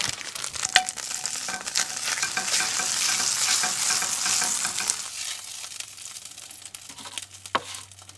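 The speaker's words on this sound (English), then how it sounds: "Take that off and heat up a couple of these tortillas." Tortillas heat in a hot pan during outdoor taco cooking, giving a steady crackling sizzle with scraping and rustling, fairly close and moderate in level.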